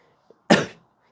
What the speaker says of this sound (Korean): 기침이 많이 나.